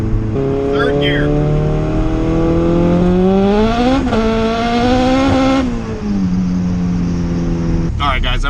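Turbocharged Honda Civic GSR running high boost, pulling hard in 3rd gear on a street: loud, continuous engine note climbing steadily in pitch, briefly dipping at a shift, then rising again, heard from inside the car.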